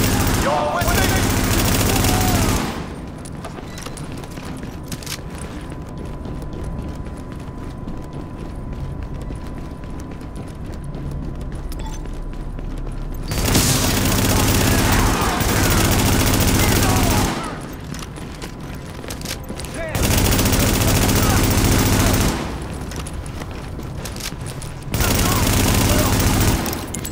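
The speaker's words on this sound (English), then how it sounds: "We got gunfire at the front gate." Gunfire and explosions in The Division video game, dense bursts of rapid automatic fire in long loud blocks that alternate with quieter stretches of mechanical background, the volume jumping up and down across the scene.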